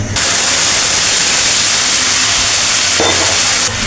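Bay leaves and dried chillies temper in hot mustard oil, a loud, dense, unbroken sizzle right at the pan that holds steady for several seconds.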